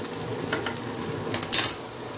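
Egg masala curry stirred in a pan with chillies and salt, a soft sizzle of frying under light scraping and clinking of a spoon against the pan, close and brief with no talk.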